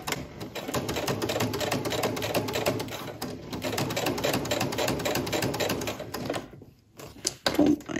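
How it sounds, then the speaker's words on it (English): A sewing machine runs steadily, top stitching a vinyl zipper pouch with rapid even needle clatter, then slows and stops near the end with a few handling clicks. "I'm going to just stitch all the way along, doing a nice decorative top stitch."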